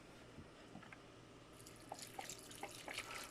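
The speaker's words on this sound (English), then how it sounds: "just going to add the rest of our chicken broth" Chicken broth poured from a container into a soup pot already filled with chicken pieces for keto chicken soup, a faint, steady liquid splash with scattered drips that grow slightly livelier toward the end.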